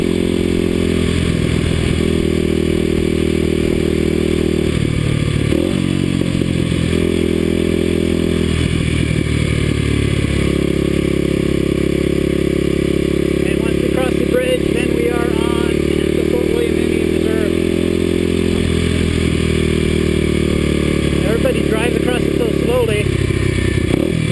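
A Kawasaki KLX250sf dual-sport motorcycle crosses an old, roughly 80-year-old lift bridge. Its steady, loud engine drone and rumble run continuously under wind buffeting, with clattering over bumps and a rider talking over it.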